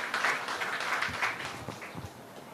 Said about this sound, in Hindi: विष्णुदेव साय जी के लिए एक जोरदार तालियां